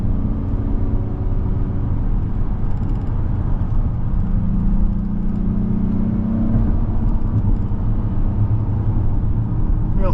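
A 2024 Acura MDX A-Spec on all-season tires being driven hard through a maneuver. Its steady engine and road rumble stays close and constant, with a slight rising whir partway through and no talking over it.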